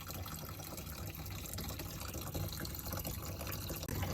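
Water draining from the fuel filter water separator of a 2017 Ford F250, a faint steady trickle and spatter that runs continuously for a few seconds without a break.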